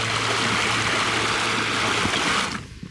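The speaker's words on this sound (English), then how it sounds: "That moves a lot of water." Outboard motor of a small trimaran churns water at a sandy landing, a loud steady rushing wash with low engine hum that cuts off abruptly near the end.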